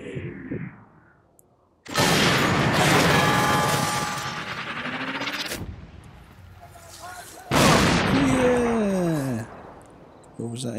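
An enemy soldier fires on the player in the war video game Sniper Elite 3, with heavy booming shots bursting out loud in two long, rolling blasts, a brief lull between them.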